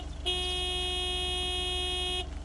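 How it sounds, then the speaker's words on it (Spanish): A car horn in the PS5 game Lake gives one steady, sustained honk of about two seconds, clear and loud over a quiet background. "Sí, tiene bocina."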